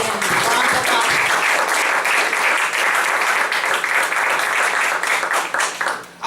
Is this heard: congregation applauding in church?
yes